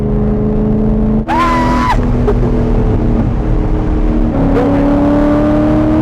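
A DIY race car engine holds wide open throttle on a track, a loud, droning roar with sustained tonal whine that briefly rises in pitch mid-way before settling back to a steady pull.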